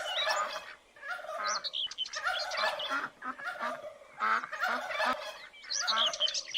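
A flock of turkeys at a zoo gobbles continuously and loudly nearby, with overlapping rattling calls and occasional chirps from other birds.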